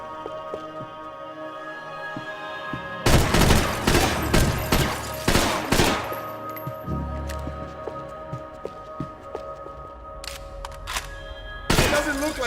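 Gunfire in the video game Max Payne 3: rapid bursts of shots and a fusillade from about three seconds on, then scattered single shots and a final burst near the end, loud and close over a steady game ambience.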